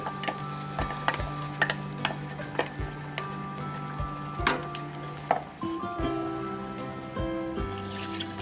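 Ground tomato paste poured into hot butter for a home-style tomato soup, giving a soft sizzle with repeated light stirring and scraping taps in the pan, fairly quiet and close, with no talking.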